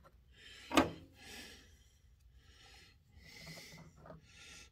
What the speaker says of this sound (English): Scribe a line all the way across.